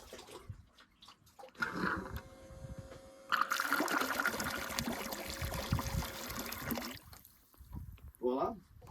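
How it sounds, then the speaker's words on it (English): Water poured into a boat's bilge, a steady rushing pour lasting several seconds before tapering off, with people talking softly before and after. "I'm going to pour some water in the bilge"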